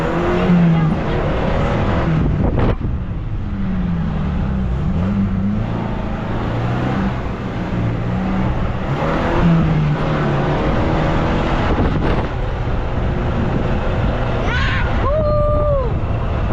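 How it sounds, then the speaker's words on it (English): Jeep engine rumbling close by as it drives down sand dunes at Sand Hollow, a steady loud drone with shifting pitch, with people talking over it and a brief rising whistle near the end. "The Jeep went down the dunes."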